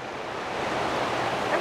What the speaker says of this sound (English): You've got a row of waterfalls, or a tier of waterfalls.